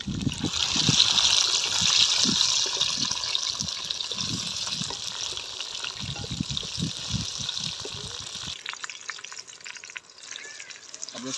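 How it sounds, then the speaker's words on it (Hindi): Water is poured into a pan of browned onions and tomatoes, giving a steady hissing splash and sizzle that runs loud for several seconds, then cuts to a quieter simmer with light bubbling. "अब इसके अंदर डालेंगे पानी"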